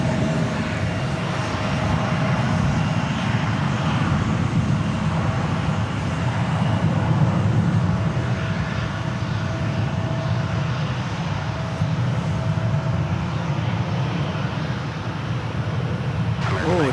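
An Emirates airliner taxiing at DFW Airport, heard as a steady, fairly loud jet engine roar and broadband rumble that holds evenly throughout, with no speech.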